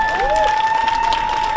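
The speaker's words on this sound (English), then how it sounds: "Let's give her a big, big round of applause" Crowd clapping at a junior livestock show, a brief wash of applause under a loud sustained whistling tone and a rising squeal, likely feedback from the PA.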